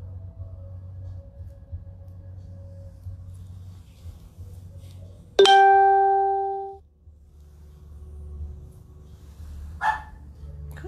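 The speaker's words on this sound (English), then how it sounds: "I hear other doggies barking." Dogs bark in the distance at night: one sharp, loud bark with a ringing tail stands out briefly midway, followed later by a fainter yelp, over a steady low background hum.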